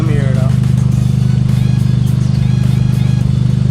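A loud Honda Civic Si engine idles with a steady low rumble and a rapid pulsing exhaust throb, running continuously close by.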